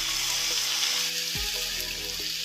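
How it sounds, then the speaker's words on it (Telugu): Chicken liver sizzles steadily in a pan of fried ginger garlic paste, a constant bright crackle heard up close, with a brief lower knock and slide midway, with no talking. "ఇప్పుడు శుభ్రం చేసి పెట్టుకున్న లివర్ వేసుకున్నాం, చికెన్ లివర్"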